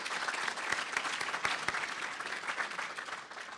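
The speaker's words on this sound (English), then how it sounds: "I think that's worthy of applause." Applause at a university collegiate recovery scholarship breakfast: a quiet, steady patter of many hands clapping at a distance, with a few sharper claps standing out, holding evenly before tapering slightly at the end.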